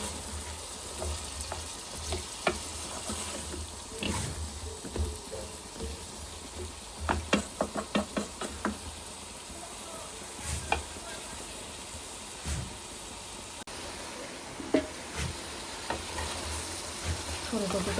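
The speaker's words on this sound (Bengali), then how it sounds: "ফুলকপি কষানো হয়ে গিয়েছে" Cauliflower sautéing in a pan for rui fish curry, a steady low sizzle broken by repeated scraping and stirring knocks from a spoon, close and fairly quiet, with a few sharper clatters.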